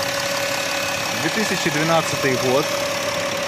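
A 2012 Volkswagen Touareg with a 3-litre V-shaped engine idles with a steady low hum while someone talks over it.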